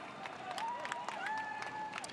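A roadside crowd at the Berlin Marathon cheers and claps, a fairly faint, continuous wash of applause and voices, with a thin whistle or horn tone wavering on top.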